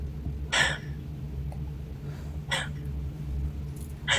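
Three sharp hiccups break out a couple of seconds apart over a low background hum, each one a short, abrupt catch of breath.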